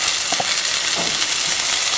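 Chopped onion frying in a pan for vegetarian enmoladas, a constant close, loud sizzle and crackle with faint stirring scrapes and no speech.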